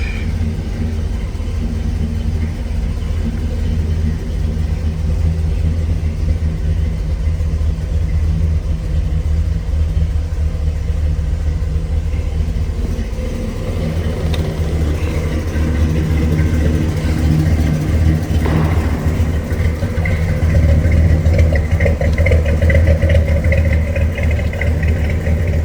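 A 1966 Chevrolet Impala SS engine idles with a deep, steady rumble close by, then picks up in the final stretch as it revs a little higher and louder, with no voices over it.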